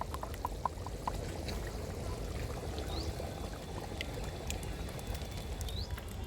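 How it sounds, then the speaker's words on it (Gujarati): A spice mix is poured into gravy on a traditional clay stove, a steady pouring, trickling sound throughout, close and continuous, with a few light clinks and taps over it. "હવે આપણે આ મિક્સ કરેલો મસાલો નાખી દઈશું"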